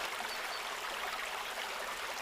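Water rushing and splashing continuously at close range, a steady broadband wash with no clear individual splashes and no voices.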